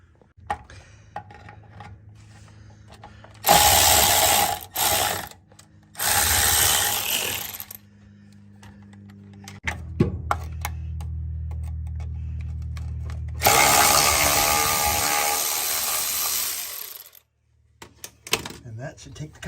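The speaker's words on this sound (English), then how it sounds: "There are the two bolts I gotta take off." A ratchet wrench removes the two bolts from the front inspection cover of a VW Bug, giving several loud, close bursts of rapid clicking separated by pauses, with someone talking between them.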